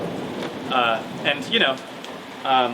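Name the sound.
thunder and heavy rain outdoors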